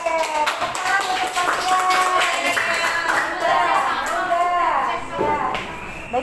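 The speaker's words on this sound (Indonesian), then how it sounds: "Oke, tepuk tangan untuk" Classroom applause for a student during a religious education teaching session, a short burst of clapping and tapping mixed with voices and someone speaking.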